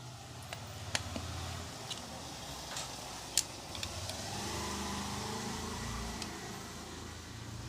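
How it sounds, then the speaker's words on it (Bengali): A Hero Pleasure scooter engine runs with its carburetor freshly fitted, a steady low idling drone held close for several seconds, with a few faint mechanical ticks and clicks over it. "কার্বোরেটরটা ফিটিং করে দেখবো ইঞ্জিনে স্টার্ট নেয় কি না"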